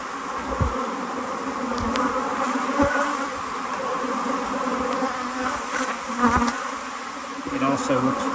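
Honey bees, Italian stock, hum in a dense, steady swarm close by as nucleus colonies are combined, with soft knocks of frames being handled and no talk.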